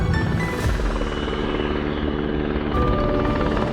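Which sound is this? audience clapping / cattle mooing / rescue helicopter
rescue helicopter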